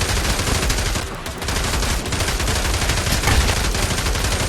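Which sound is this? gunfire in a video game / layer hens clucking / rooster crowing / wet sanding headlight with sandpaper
gunfire in a video game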